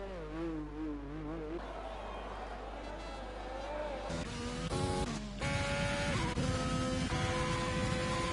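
F1 race car engine in a racing video game, a high whining tone shifting pitch, then louder layered engine notes as cars pass, continuous and fairly close.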